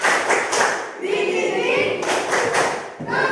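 Rhythmic group clapping in an Indonesian classroom tepuk semangat routine, a patterned series of quick claps with taps and thuds, fairly loud and close, with voices mixed in.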